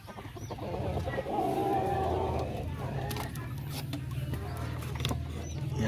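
Darag native chickens in a backyard farm cluck and murmur nearby, with a few scattered bird calls and faint rustling over a low background hum.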